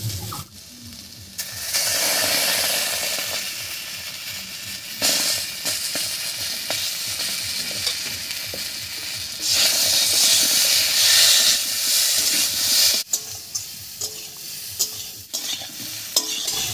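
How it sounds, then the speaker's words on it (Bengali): Ground dried chili and ginger paste stirred into fried potatoes in a pan, producing a loud, continuous hiss and sizzle with surges as the paste meets the oil and scraping stirs underneath, close up and with no voices. "এবার এর মধ্যে দেব বেটে রাখা শুকনো লঙ্কা আর আদা"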